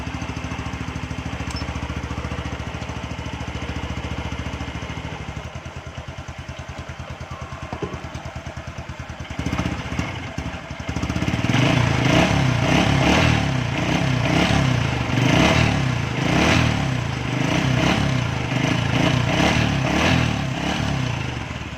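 A Honda Wave 125 motorcycle engine idles with a steady putter, then revs up louder partway through and keeps running at a higher, pulsing pitch.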